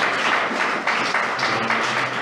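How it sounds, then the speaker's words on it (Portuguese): A church congregation applauds together during a service, a steady dense wash of clapping that fills the space without pause, with no voices standing out. "Aplauda ao Senhor."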